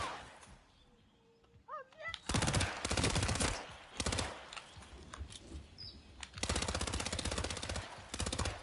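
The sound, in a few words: gunfire in Hitman: World of Assassination video game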